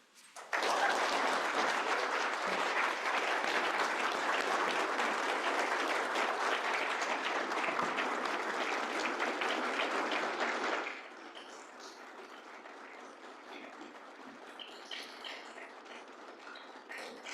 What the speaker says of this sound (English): We're just going to keep that clap going